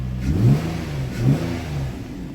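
A Nissan Maxima engine after an exhaust valve control solenoid repair, blipped twice in quick succession, each rev swelling and falling back toward idle, close and moderately loud.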